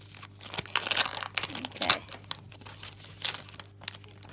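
A foil Pokemon card pack wrapper crinkles and crunches as it is pulled and torn open by hand, a close, irregular run of rustling bursts with a sharper rip near the middle and no speech.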